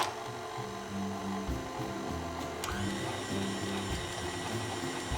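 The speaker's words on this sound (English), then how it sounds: "we'll just let the mixer do the rest of the work for us" An electric stand mixer runs at a steady drone while mixing grain-free, dairy-free shortbread dough, with a continuous motor hum and faint rhythmic churning close by.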